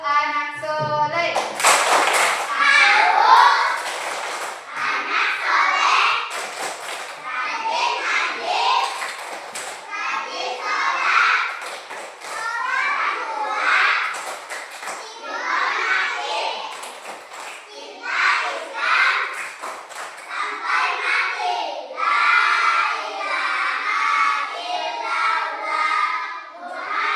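Children chant the 'tepuk anak soleh' clapping song in a classroom, their voices loud and close, with rhythmic hand claps in quick bursts that keep time through the whole chant.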